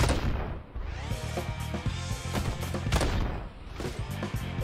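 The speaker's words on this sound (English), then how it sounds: "That's an explosion." A video game gas station explosion erupts in a series of booming blasts and crackling bursts, loud and close, rolling on for several seconds with no talk over it.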